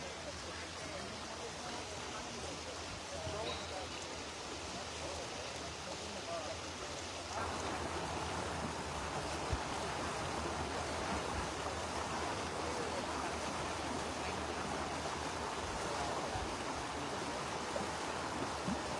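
The San Marcos River flows steadily nearby as a continuous broadband rush of moving water, even and unbroken, growing slightly louder partway through with no talking over it.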